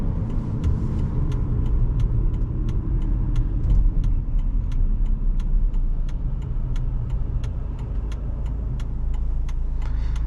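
A 2017 Jeep Compass Latitude engine hums steadily at a constant, moderate volume while driving, with road rumble and occasional faint ticking, with no talking.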